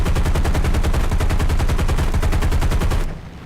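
Rapid machine gun fire from a P-47 fighter plane in the War Thunder combat game, one loud unbroken burst of fast, evenly spaced shots lasting about three seconds before cutting off abruptly.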